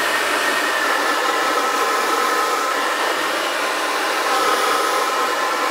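A hair dryer blasts steadily and loudly at close range while it styles long hair around a bent brush. The airflow roar holds an even pitch throughout with no talking.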